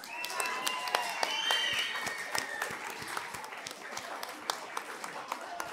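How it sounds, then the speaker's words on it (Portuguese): Carnival hall audience claps for the parish priest: a lively round of applause with sharp individual claps standing out, tapering off as a voice talks over it. "Ora, também uma salva de palmas para o nosso tio Padre"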